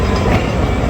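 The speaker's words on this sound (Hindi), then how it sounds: "ये है जी हमारी नई 140 डाउन सांदल एक्सप्रेस" The Sandal Express, train 140 Down, at Jhang Sadar Railway Station, a brief, loud, steady rumble of rolling stock with no voices.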